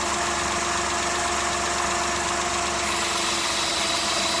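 A car engine idles with a vacuum leak, a steady mid-pitched hum with faint knocking and vibration as the revs sag slightly, close and continuous with no talk.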